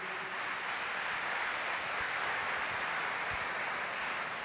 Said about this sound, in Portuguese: Aplaudamos mais uma vez a palavra de Deus.